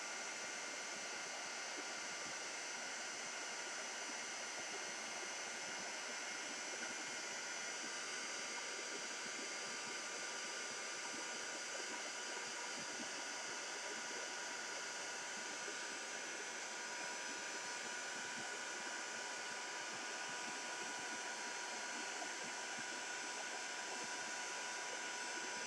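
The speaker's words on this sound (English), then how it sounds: "I'm just going to heat up my heat gun first, and then do my embossing" A heat gun warms up for embossing a Christmas star card, giving a steady, loud broadband whoosh of blown hot air that holds unchanged and uninterrupted throughout.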